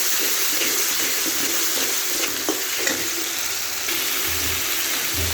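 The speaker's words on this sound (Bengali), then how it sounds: "এখন এগুলোকে ভালো করে নেড়ে মিশিয়ে নেব।" Ginger garlic paste fries and sizzles in a pan while being stirred, a steady close hiss with occasional scraping clicks, no voices.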